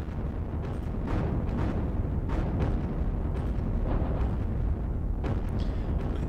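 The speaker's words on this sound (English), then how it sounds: "got these heavy infantry guns here." Heavy infantry guns firing in the wargame Panzer Battles Kursk, heard as a continuous, loud rumble of booming artillery with repeated distant blasts layered over each other and no talking.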